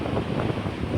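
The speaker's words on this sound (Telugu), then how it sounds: "ఇప్పుడు నాకు ప్రజెంట్ ఫుల్ మేఘాలు పట్టేసి గాలి వేస్తుంది బాగా, చాలా అంటే చాలా." Strong wind blows before rain under heavy clouds, a brief, dense gusting rush buffeting the microphone with no voices.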